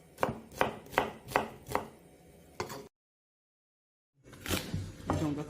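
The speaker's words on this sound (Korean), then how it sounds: "이렇게 반으로 가르고 가지의 이 보랏빛이 우리 몸에 굉장히 좋죠" A kitchen knife chops through a fresh, tender garden eggplant on a board with five sharp, evenly spaced cuts, near and clear. A gap of silence follows, then two more chopping strokes.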